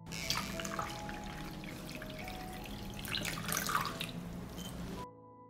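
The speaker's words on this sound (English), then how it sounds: "The jars are hot, so I pour lukewarm water up to the height of the lid." Lukewarm water poured from a tap or jug into a cooking pot holding hot glass jars, a steady close splashing and trickling stream that runs for several seconds and then stops.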